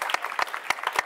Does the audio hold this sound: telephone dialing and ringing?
no